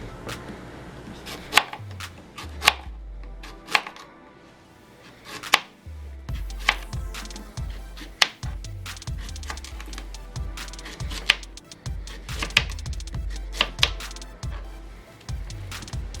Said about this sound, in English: And now we're going to chop these into pieces.